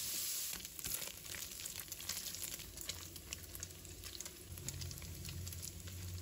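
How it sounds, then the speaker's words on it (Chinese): Minced pork belly stir-fries in hot oil in a wok, a steady close sizzle and crackle with light patter and occasional scraping as it is stirred. "锅烧热之后，把五花肉末倒入锅中，先把它炒香，炒出猪油，炒干里面的水分"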